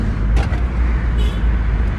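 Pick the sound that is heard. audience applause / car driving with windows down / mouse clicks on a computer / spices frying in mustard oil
car driving with windows down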